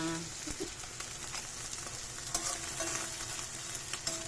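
Eggs fry with onion and tomato in a pan, giving a soft, close sizzle with a few light stirring and scraping taps.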